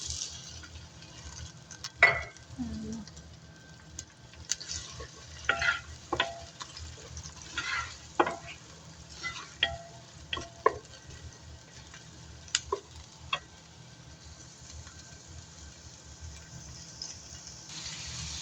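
Onions frying in oil in a pan, a faint low sizzle under a series of intermittent spatula scrapes and knocks spread across the stretch, close and fairly quiet, with no talking.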